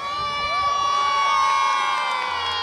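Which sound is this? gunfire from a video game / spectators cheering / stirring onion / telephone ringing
spectators cheering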